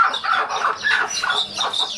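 Chickens that had been kept covered cluck and squawk nonstop, a busy, overlapping chorus of agitated hen calls close by with no talk over it.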